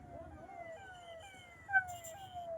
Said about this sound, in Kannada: ರಸ್ತೆ ತಡೆ ಚಳುವಳಿಯ ಸಮಯದಲ್ಲಿ ಆಂಬುಲೆನ್ಸ್ ಬಂದಿದೆ